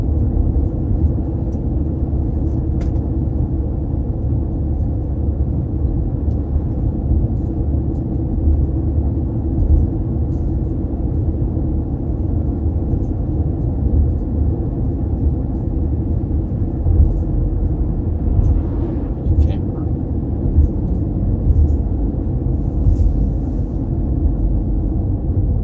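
Steady, loud, low road rumble of a car driving along a country road lined with wineries and vineyards near Seneca Falls, New York, unbroken for the whole stretch with no talk.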